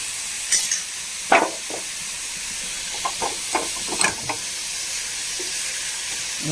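Grated carrot, coconut, ghee and sugar get stirred in a pan on the stove, with scattered scraping clicks of the spoon over a soft steady sizzle, close up and with no talking.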